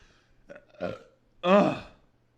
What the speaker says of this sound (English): whenever I burp